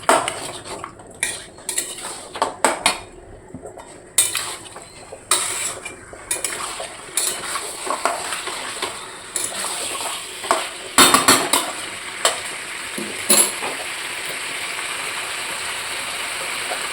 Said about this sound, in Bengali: এদিকে মাংসটা কষা চলেছে